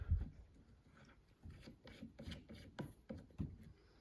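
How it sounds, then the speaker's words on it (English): Close, quiet scraping and rubbing of a throw lever being screwed into a Discoveropt ED GEN-II 5-25x56mm rifle scope, with a dozen or so short gritty twists and taps, no talking. "We'll just screw it in."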